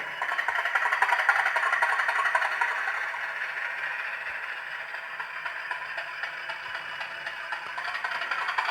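Hornby Class 50 model locomotive fitted with a TTS sound decoder runs steadily, giving a continuous mid-pitched diesel-style drone with a faint mechanical rattle that stays even and moderately loud throughout, with no voices.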